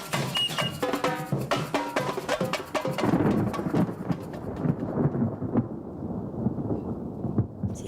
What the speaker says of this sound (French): Ce sont des orages de chaleur qu'on appelle. Et c'est vrai qu'il pleut énormément pendant l'orage